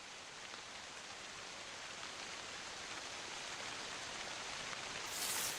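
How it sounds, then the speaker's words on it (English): Steady, even rain hisses throughout, a dense continuous wash of falling drops with no voices, from the video game Pine: A Story of Loss. "Ooh, rain."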